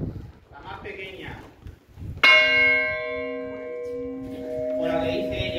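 San José, the smallest bell in the church tower of Callosa de Segura, is struck once and rings out with a bright, sustained, slowly fading tone, close and loud, while people talk before and during the ring.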